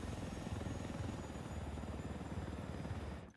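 A helicopter in the video game Ghost Recon: Wildlands flies with a loud, steady rotor chop and engine whine that fills the whole stretch before cutting off abruptly at the end.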